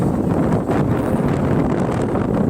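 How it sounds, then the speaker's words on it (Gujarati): Strong morning wind blowing outdoors on Pavagadh hill, overlooking a lake from above: a steady, loud, low buffeting rumble across the microphone, continuous throughout with no talking. "હવા પણ તેજ ચાલી રહી છે."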